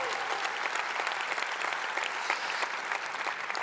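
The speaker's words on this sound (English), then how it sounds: "Could we give her a huge Manova round of applause?" Sustained audience applause from a large crowd at the Manova 2018 event, dense steady clapping that fills the whole stretch without pause.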